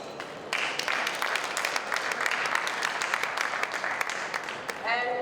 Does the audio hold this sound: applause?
yes